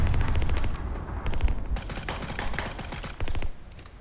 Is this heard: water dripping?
no